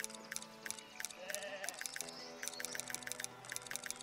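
Sheep bleat in the city-building video game Foundation: a soft wavering bleat sounds in the middle, set against a quiet game soundscape of regular light ticking and clicking patterns, with no one talking.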